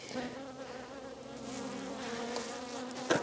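Honeybees in wooden hive boxes drone in a continuous close buzz while a beekeeper checks colonies being consolidated for winter, with a short knock near the end.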